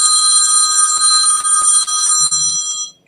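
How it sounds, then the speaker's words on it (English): A landline house phone rings with a bright, continuous electronic trill that sounds loud and close for about three seconds before cutting off. "That sounds like a house phone."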